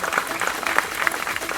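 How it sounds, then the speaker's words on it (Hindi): Brief burst of audience clapping at a film press conference, individual claps distinct and irregular, lasting only a moment. "जोरदार तालियां उनके लिए"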